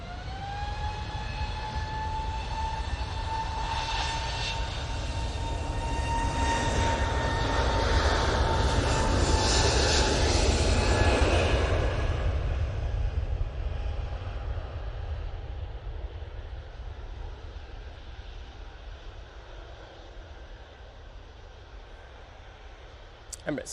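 A jet airliner departs Manchester Airport bound for Stockholm, its engine roar and high whine swelling to a loud peak mid-clip, then fading steadily as the aircraft climbs away into the distance.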